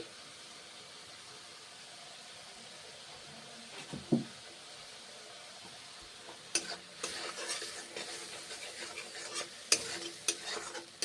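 Spices sauté for a plain duck egg curry with grated coconut, a faint low sizzle with a few soft knocks early on, then louder, busy scraping and stirring against the pan in the second half.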